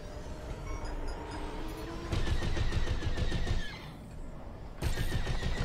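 Starfighter weapons in Star Wars Squadrons fire in rapid, repeated laser bursts, loud and close, in two main volleys with a short lull between them, over engine hum.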